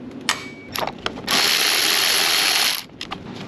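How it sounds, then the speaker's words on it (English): A hand ratchet clicks while backing out small T25 screws on an Audi Q5, with a few short bursts of pawl clicking followed by a long continuous ratcheting run, close and fairly quiet. "we'll take these little T25 screws out of the top right here"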